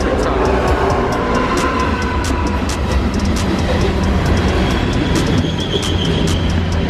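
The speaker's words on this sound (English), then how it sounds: "There's actually a train coming." A train rumbles loudly past at close range near a bridge, a steady roar with rhythmic clacking and a faint high wheel squeal.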